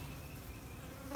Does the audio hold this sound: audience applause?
no